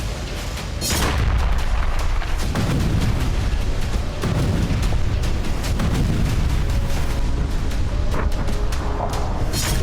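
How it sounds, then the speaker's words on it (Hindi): Heavy booming blasts from bombing near the city of Hama, Syria, a deep sustained rumble with repeated concussive bursts and crackling debris, loud and continuous throughout. "शहर के पास जबरदस्त विस्फोट की ये तस्वीरें भी हामा शहर की हैं"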